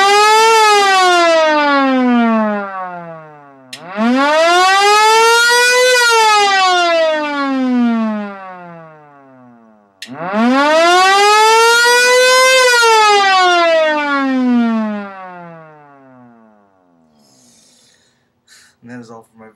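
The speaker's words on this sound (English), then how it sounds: "And here's the siren." A loud mechanical Dietz siren winds up and down in two long cycles, rising to a howling peak and falling away, with a brief pause between.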